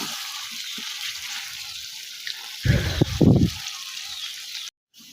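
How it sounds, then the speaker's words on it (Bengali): Water is poured into a pot of potatoes and chicken skin cooking in oil, a short gurgling splash lasting about a second that rises over a steady background sizzle. "এখন পানি দিয়ে দেব।"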